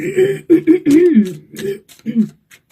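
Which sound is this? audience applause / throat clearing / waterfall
throat clearing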